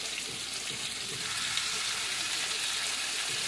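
Pork, beef and soy chorizo cooking over medium heat in a pan, giving an even, loud, continuous sizzle with no pauses and no talking.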